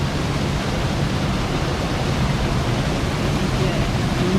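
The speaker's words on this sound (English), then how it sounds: "Come around here to the waterfall." A waterfall at Sam Creek near Cape York, Australia, pours into a creek pool, making a loud, steady broadband rush throughout with no break.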